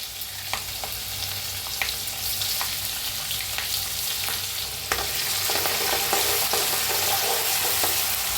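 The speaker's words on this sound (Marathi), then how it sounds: "भाजून घेऊया आता ह्याच्यातच टाकूया हिरवी मिरची" Green chillies crackle and sizzle loudly in hot oil with roasted peanuts, while a spoon scrapes and stirs the pan in steady, irregular clicks; no voices.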